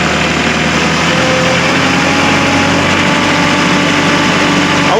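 A Kubota MX5200 tractor engine idles steadily while still cold, a continuous loud low rumble with a faint rising whine near the end and no talking.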